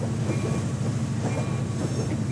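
A train runs in the video game Rails Unlimited, its wheels clattering in a steady rhythmic clickety-clack over a constant rolling rumble, close and sustained with no voices.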